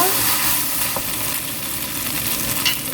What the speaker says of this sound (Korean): 네, 빠르게 30초 정도 볶아주세요.